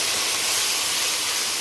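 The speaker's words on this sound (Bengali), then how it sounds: "গরম জল দিয়ে দিলাম" Hot water poured into a pan of frying onion and ground spices for a snakehead fish curry sets off a loud, steady, close sizzling hiss throughout.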